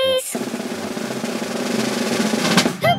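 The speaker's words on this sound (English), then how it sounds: "Drum roll, please." A cartoon circus act's drum roll, a steady, dense rattle sustained for about two and a half seconds between brief bursts of a character's voice at the start and end.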